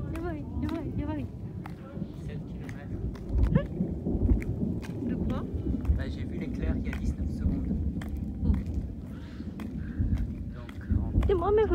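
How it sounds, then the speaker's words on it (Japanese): Thunder rumbles low and long over an Alsace vineyard near Dambach-la-Ville in August before harvest, a continuous deep roll beneath someone talking throughout, with scattered clicks and footsteps outdoors. "雷が鳴る"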